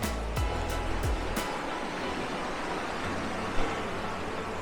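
A mountain creek near a campsite in Maple Canyon, Utah, flows with a steady broadband rush at moderate distance. A few low thumps sound early on, and there are no voices.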